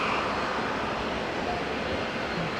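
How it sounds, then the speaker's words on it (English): An Airbus A321 bound for Brisbane speeds along the taxiway at Auckland International Airport, a steady broadband engine roar holding at a constant level throughout. "So here comes the 321 that was going to Brisbane that Carwin told us about. It's also racing down the taxiway."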